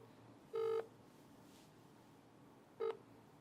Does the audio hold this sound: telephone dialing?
yes